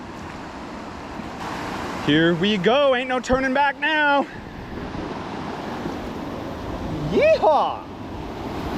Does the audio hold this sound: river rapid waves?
yes